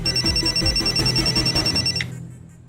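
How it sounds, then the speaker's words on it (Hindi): A telephone rings for an incoming call from an unknown number, a loud, close electronic trill that pulses steadily for about two seconds and then cuts off abruptly. "किसी अननोन नंबर से फोन आ रहा है सर"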